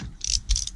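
Ratchet clicking while tightening loose screws, two short bursts of close, crisp rapid clicks.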